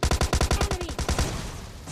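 Rapid bursts of automatic gunfire in a battle royale video game, about a dozen sharp close shots in quick rhythm, then a trailing rumble of distant shots and debris as the fire stops.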